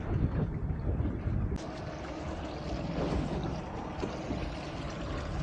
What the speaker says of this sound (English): I've just switched my engine on for a minute.